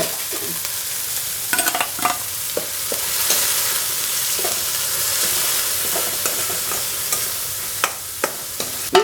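Chili and ground coconut paste fry and sizzle in a pan for lady's finger kichadi, a steady hiss broken by the scrape and clack of stirring, close and fairly loud.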